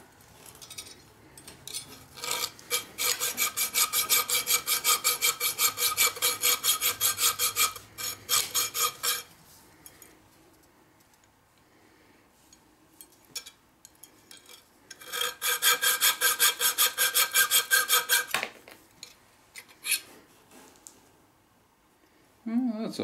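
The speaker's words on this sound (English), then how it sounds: "Nothing like a dollar store hacksaw." A cheap dollar-store hacksaw rasps through metal stock in two long bursts of steady back-and-forth strokes, close and loud, separated by a quieter pause, with brief speech near the end.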